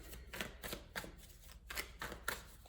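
Tarot cards being shuffled by hand, a series of quick riffling bursts in an irregular rhythm, close and fairly quiet.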